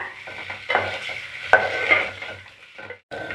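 Eggs frying in masala in a pan for egg biryani: a steady sizzle with spatula scrapes and metallic clinks, a sharper scrape near the middle, and a brief silent gap near the end; no talking.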